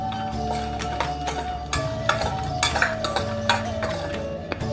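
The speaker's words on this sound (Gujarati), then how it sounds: "એમાં મેં અડધી વાટકી કાજુ અને બદામના ટુકડા લીધા છે એ શેકીશું" Cashew and almond pieces roasting in a pan for Janmashtami panjiri are stirred with a utensil, giving repeated clinks and scrapes against the pan over a steady low hum.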